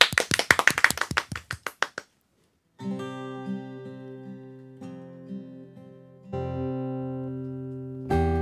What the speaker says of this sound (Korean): 여러분 큰 박수로 청해 듣겠습니다